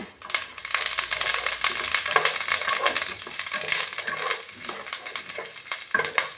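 Mustard seeds crackle and pop in hot oil, a dense sputtering sizzle with sharper pops scattered through, close and fairly loud.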